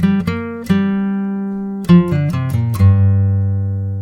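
A guitar plays a short riff on open strings, several plucked notes ringing clearly and sustaining, the last chord left to ring out.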